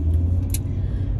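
Car interior while driving, with a steady low engine and road rumble throughout and a brief faint high hiss midway; no talking.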